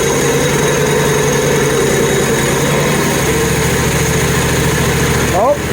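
Portable sawmill engine idling as it warms up before milling hard maple, a steady loud rumbling chug with a slight shift in pitch midway and a brief whine near the end.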